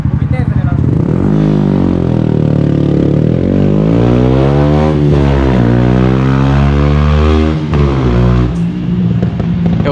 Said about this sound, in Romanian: Mamă, cum s-aude toba aia.